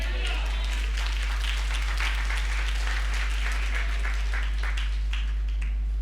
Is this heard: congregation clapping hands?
yes